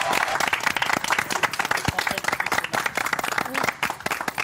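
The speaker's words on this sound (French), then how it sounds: "Franck, et on t'applaudit." A crowd applauds steadily for several seconds, dense clapping filling the room with a few cheers mixed in.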